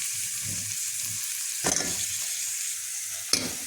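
Zucchini and onion sizzle steadily in a hot pan as they are stir-fried, a constant close crackle with two sharp scraping stirs and no talking.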